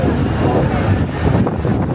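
Strong wind buffets the microphone on Taiwan's northern coast, a loud continuous roar and rumble with no pauses throughout.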